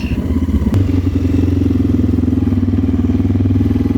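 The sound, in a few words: motorcycle engine slowing to a stop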